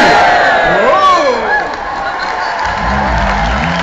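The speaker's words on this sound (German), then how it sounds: "Das Publikum ist durchgedreht." A crowd at a concert in Esslingen cheers and shouts, a loud, dense mass of voices with whoops rising over the din, sustained throughout with a low rumble toward the end.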